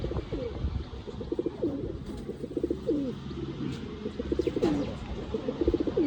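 Pigeons, including Andhra, Malwai and Madrasi breeds, coo repeatedly in soft, rolling phrases, several birds overlapping at close range over a steady background hum.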